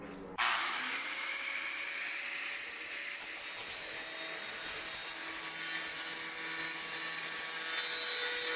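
A steady, continuous high-pitched cutting tool bites into metal for a 1969 Camaro drag car driveshaft enclosure, starting abruptly and holding an even, harsh whine throughout.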